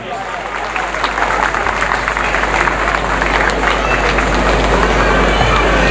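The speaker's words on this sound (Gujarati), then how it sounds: "તો એકવાર જોરદાર તાળીના ગડગડાટથી વધાવીએ આપણે" A large crowd at a felicitation ceremony breaks into sustained applause, dense clapping and murmuring holding loud and steady throughout.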